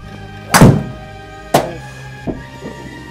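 Golf club driving a ball, one loud sharp thunk of the strike followed by a second solid knock and two fainter taps, close and crisp against a quiet outdoor background with no talking.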